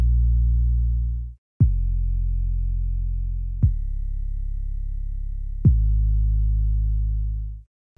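A deep, smooth synth bass line from a song plays alone as long sustained notes, each starting with a soft attack and ringing steadily before a brief silence near the end.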